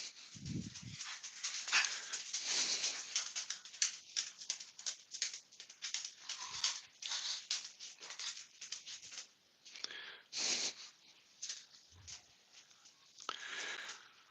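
A dog whimpers and whines in repeated thin, high cries, fairly close, with soft panting and short muffled bumps in between, wanting to go outside.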